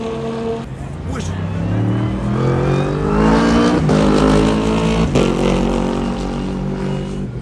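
Porsche 911 GT3 RS cars lapping a damp, grey circuit during a 24-hour track event, engines revving and rising in pitch as they pull away. The roar is loud and steady, with people talking over it.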